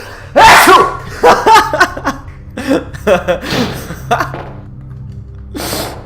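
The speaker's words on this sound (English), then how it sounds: "I'm about to sneeze." A single sharp human sneeze bursts out near the mic, followed by chuckling, laughter and a few short breathy sounds and words from the same person.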